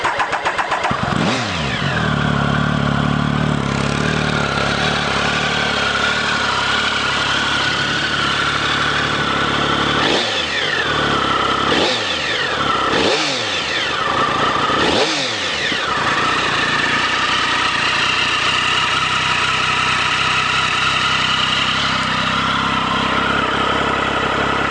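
A 2009 Triumph Speed Triple motorcycle engine cranks and catches, then idles loudly up close with several sharp throttle blips and revs in quick succession before settling back to a steady idle, with no talk.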